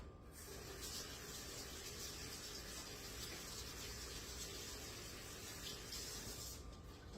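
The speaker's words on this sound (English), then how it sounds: "I got to wash my hands." Tap water runs steadily into a sink while someone washes their hands in a home kitchen, a soft, even rush that is quiet and continuous for several seconds, with no talking.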